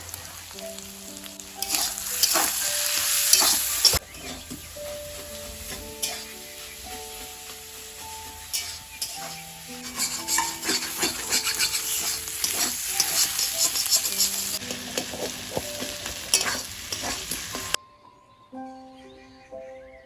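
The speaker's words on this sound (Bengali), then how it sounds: "আমার এটা খুব ভালো করে ভাজা হয়ে গেছে।" Steady loud sizzling of salt, turmeric, chilli powder and cumin powder frying in a pan, with occasional scraping stirs and clinks, continuing for a long stretch before fading quieter at the end.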